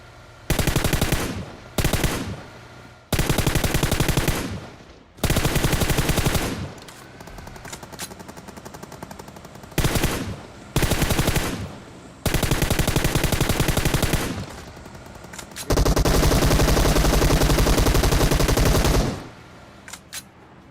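Long bursts of rapid automatic gunfire in PUBG Mobile, loud and close, separated by short pauses, with no one talking.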